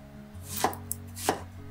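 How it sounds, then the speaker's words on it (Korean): Knife chopping pear into rough pieces on a board, two distinct crisp cuts about half a second apart with a faint tap between, close and clear with no talk. "배는 가운데 심지 제거 후 대충 썰어주세요"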